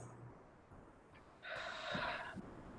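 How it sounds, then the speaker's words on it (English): A single slow, deep breath is drawn in quietly near the microphone, swelling into a soft airy inhale in the second half of a guided breathing exercise. "we're going to take some long, slow, deep breaths."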